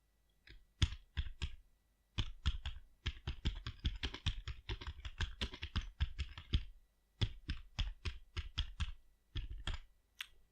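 Close, crisp typing on a computer keyboard while entering new text in a CMS backend, with rapid clicking keystrokes arriving in steady bursts separated by short pauses.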